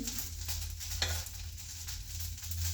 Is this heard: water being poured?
no